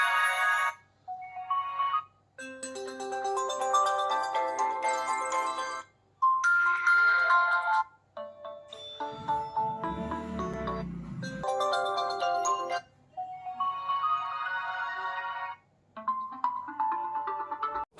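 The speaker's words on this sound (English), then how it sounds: "OnePlus also added new aquamorphic sounds for ringtones and the notification" A sequence of OnePlus OxygenOS 14 aquamorphic ringtones and notification chimes, bright watery melodic tones played one after another with short silent gaps between them.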